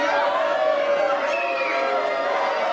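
A wrestling crowd at the Walton County Fairgrounds keeps up a dense, loud, continuous roar of shouting and cheering throughout.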